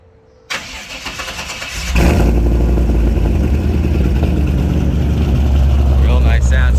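A 1957 Chevrolet Bel Air with a fuel-injected 383 stroker V8 cranks on a cold start, catches and settles into a loud, steady, rumbling idle heard close up.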